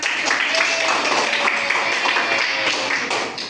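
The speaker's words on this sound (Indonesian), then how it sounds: "Beri tepuk tangan untuk kita semua." A class of students claps together in a classroom, giving dense, continuous applause for a few seconds, loud and close, with some voices mixed in.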